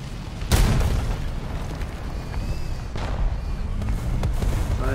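An enemy tank round strikes the player's vehicle in War Thunder, a sharp loud boom followed by rumbling battle noise, with a second fainter impact about halfway through.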